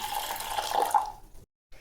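Water splashes and trickles briefly at close range, poured over lentils in a container to rinse them, then stops abruptly.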